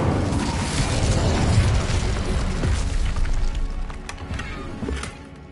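The Incendio fire spell is cast in Hogwarts Legacy, giving a loud, roaring burst of flame with rumbling booms and crackles that fade out near the end.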